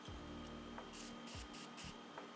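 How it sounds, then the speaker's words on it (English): Several quick hissing spritzes from a Morphe Mini Container Spray bottle misting a makeup sponge, short bursts in a quiet room with a faint low hum underneath. "use the Morphe Mini Container Spray to spray it"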